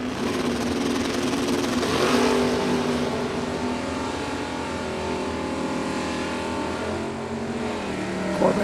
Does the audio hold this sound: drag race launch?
yes